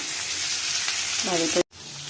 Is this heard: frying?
yes